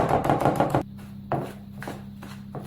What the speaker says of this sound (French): de ces blancs que je vais mélanger sans faire attention à la préparation précédente pour l'assouplir, c'est-à-dire la préparation au chocolat